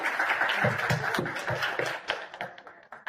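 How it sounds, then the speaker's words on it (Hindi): An audience claps in a ragged stream of loud close claps that thin out toward the end, with a voice mixed in underneath. "अच्छा, ये जो तालियां भी बजा रहे हैं"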